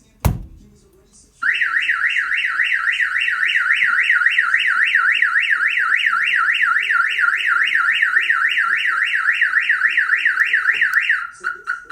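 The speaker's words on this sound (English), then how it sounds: "now you have the alarm system active with a siren." A Viper aftermarket alarm siren on a 2021 Ford Ranger blares loud and close after a brief click, cycling through a steady warbling, rising-and-falling electronic wail for about ten seconds before cutting off.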